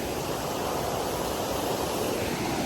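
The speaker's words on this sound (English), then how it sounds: "This is Upper Creek Falls in North Carolina." Waterfall at Upper Creek Falls in the North Carolina mountains, heard from the top: a steady, loud, broadband roar of rushing water, constant throughout with no voices.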